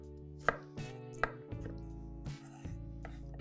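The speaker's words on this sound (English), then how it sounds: "And then we turn, and then we have diced onion." Knife dicing an onion on a board for pesto minestrone soup, a few crisp chops, roughly five sharp strikes spaced apart, close and fairly quiet.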